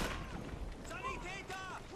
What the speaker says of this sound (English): Like grenades everywhere.